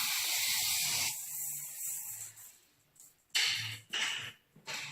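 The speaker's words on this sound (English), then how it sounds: "And I'm going to spray the inside," Soapy water sprayed inside a dog kennel gives a close hissing spray that starts strong, fades, then returns in two short sharp bursts.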